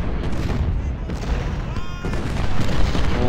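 Cannon booms and rifle volleys from an Ultimate General: Civil War battle rumble in a dense, continuous wash of distant fire, with a faint voice underneath.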